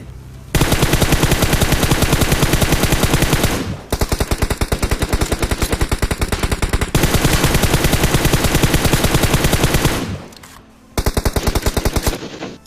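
Rapid automatic gunfire sprays in a shooting game, loud and close, in long unbroken bursts of evenly spaced shots, with short pauses between three extended volleys.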